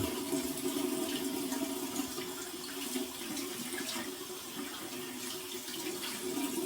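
Cold water runs steadily from a bathroom tap for a rinse after shaving with a double edge safety razor, a continuous close splashing hiss with no talking.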